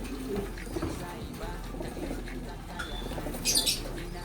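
Racing pigeons kept for one-loft races coo softly in a loft, low murmuring calls set against faint background noise, with a brief higher chirp near the end.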